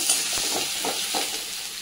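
Ginger paste stirred in a hot frying pan while making mung dal: a steady close hiss of sizzling oil with a few soft scraping strokes from the spatula, and no voices.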